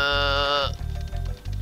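A sheep bleats in Spyro the Dragon, one sustained, wavering bleat lasting most of a second, clear and close, followed by low thumping game sounds.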